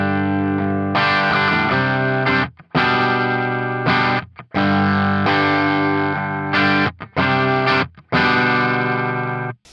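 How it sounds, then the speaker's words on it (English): Electric guitar strummed through a clean signal with just a touch of breakup, loud chords ringing out in several bursts separated by short gaps. "let's just give it a strum to see how it sounds, just kind of what kind of clean signal I'm dealing with here."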